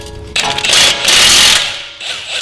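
An impact wrench spins a 19mm socket on suspension nuts during an ISC N1 coilover install on a 2014 Subaru Forester XT, giving one loud close burst of buzzing rattle that fades, then starts again briefly.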